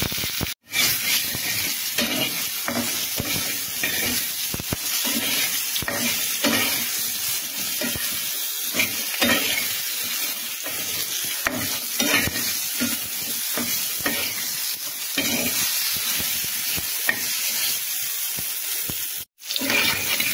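Pointed gourd (potol) frying in oil in a pan, a constant hiss and crackle of sizzling broken by repeated scraping strokes of a spatula stirring the pieces, close and steady with no voices.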